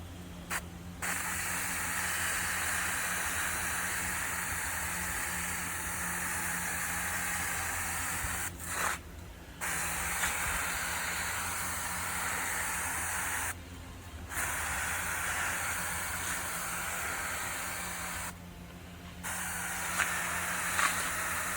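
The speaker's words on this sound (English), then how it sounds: "just keep spraying" Aerosol paint sprays onto a rusty Oklahoma Joe Highland smoker in bursts of steady hiss lasting several seconds each, broken by short pauses, close and even in level.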